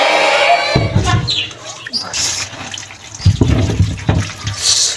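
Cold water running from a tap, a close, steady splashing gush with shifting gurgles, and a person talking over it at moments.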